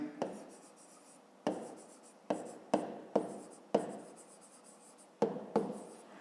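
Pen writing on paper during a fifth-grade maths exercise, heard as a series of sharp scratchy strokes and taps with short pauses between them, close and fairly quiet with no talking.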